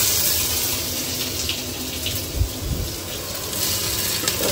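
Crushed ginger frying in a pan for a curry gives a dense, even hiss throughout, close and fairly loud, with a brief low bump midway and no voices.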